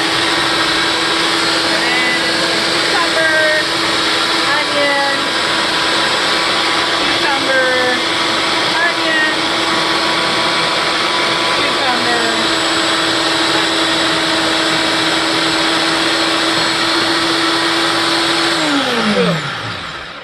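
A loud food processor whirs steadily as it chops cucumber and onion, with a strong motor drone and scattered clattering pieces. The sound runs alone for about nineteen seconds, then the motor winds down and stops at the end.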